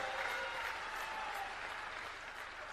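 Loud, dense applause from a large crowd at a BJP election rally in Khajuraho, honouring the home minister, a steady sustained clapping that fills the space with no speech over it.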